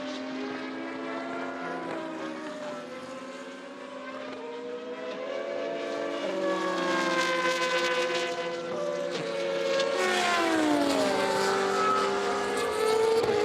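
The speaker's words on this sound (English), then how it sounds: "just some of the sounds these cars make is absolutely superb" Racing cars in a BOSS GP race at the Assen circuit run through the chicane, engines howling with sweeping pitch shifts as they brake, downshift and accelerate, several cars overlapping, loud and continuous throughout.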